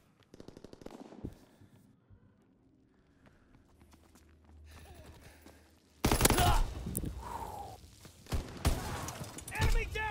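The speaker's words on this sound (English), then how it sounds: "Shotgun battle over here." Shotgun blasts in Call of Duty WWII hardcore team deathmatch: quiet footsteps and faint noise at first, then loud, dense gunfire with repeated heavy shots and impacts, partly under voices.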